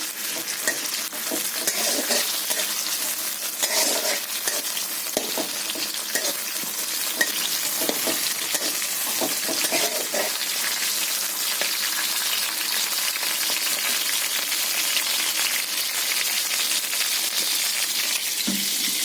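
Tomatoes fry with fish roe in a pan, a continuous sizzle broken by repeated clinking and scraping as a spatula stirs, close and steady with no voices.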